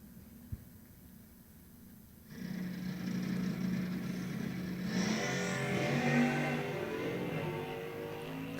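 Drag racing cars launch down the strip at an NHRA national open event: a quiet lull, then a sudden loud engine roar rising into a sustained rasping drone that stays steady to the end.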